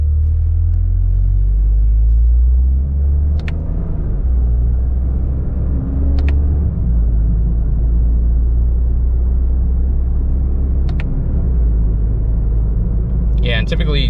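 A 2025 Toyota GR Corolla automatic in manual mode drones along at a low, steady, loud engine and road rumble, with a person talking over it throughout.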